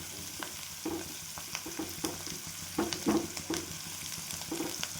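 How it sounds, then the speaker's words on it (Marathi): Chopped onion sautéing in oil for a village-style gram leaf (harbara) sabji, a soft steady sizzle with a spoon stirring and scraping the pan at intervals, no talk. "छान कांदा परतून घ्यायचा तेलामध्ये एकदम"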